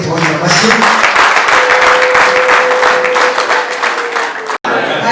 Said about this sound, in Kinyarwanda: Twongereye abantu tubashimire tubonye amashyi.